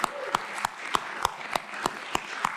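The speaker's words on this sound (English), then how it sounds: "So 2 last rounds of applause." An audience applauds at a launch event, with sharp, evenly spaced claps cutting through a steady wash of clapping for a few seconds.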